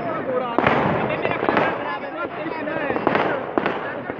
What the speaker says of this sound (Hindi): कौन से वाले पटाखे हैं?